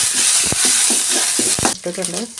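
Chicken curry with chopped tomato cooks in a pan, a steady close sizzle broken by several sharp scrapes and stirs, with a brief fuller bubbling burst near the end.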